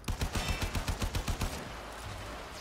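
Rapid automatic assault rifle fire in the video game Warframe, a burst of about a dozen sharp evenly spaced shots lasting just over a second, then a fading tail.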